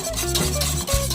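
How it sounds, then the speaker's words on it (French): Pastry cream being stirred over fairly high heat in a saucepan, the spoon scraping the bottom to keep a skin from forming and burning; a steady, close rasping and swishing continues throughout with no talk. "raclant le fond pour éviter qu'il y ait une pellicule qui se forme dans le fond de la casserole et qui brûle"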